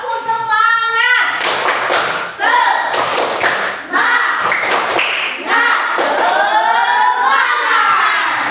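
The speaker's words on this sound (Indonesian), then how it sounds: "Sekarang ibu tes dulu tepuk semangatnya." A classroom of Indonesian schoolchildren performs the 'tepuk semangat' clapping chant, with rhythmic group claps and thumps mixed with loud shouted chanting voices, after a teacher's brief sung prompt at the start.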